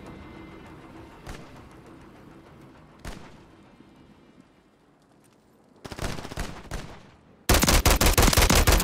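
Gunfire in a Call of Duty match: a few distant single shots at first, then a closer burst, ending in a loud, rapid automatic stream.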